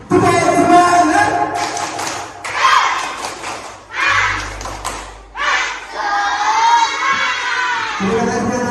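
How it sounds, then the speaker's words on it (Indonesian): Children in Class 4B perform the tepuk semangat clapping chant together, with rhythmic bursts of shouting and clapping that start and stop in short phrases and finish with a cheer. "Untuk itu kita akhiri dan dengan tepuk semangat."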